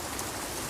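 Rain falls steadily, a brief, even wash of soft hissing patter with no voices.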